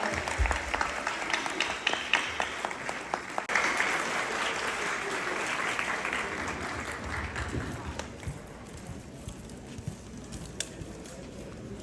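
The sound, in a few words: audience applause for dancers at a gala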